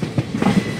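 The Ledo Guwahati Intercity Express rolls along the New Tinsukia–Duliajan branch line in Assam, a brief rumble of wheels with a few rhythmic clacks heard from close by.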